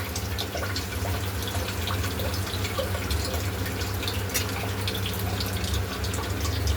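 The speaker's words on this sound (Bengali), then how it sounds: "এবার আমি জলটা দিয়ে দেব" Water is poured from a cup into a pan while pabda fish curry cooks, a continuous close splashing and trickling with a low steady hum beneath it.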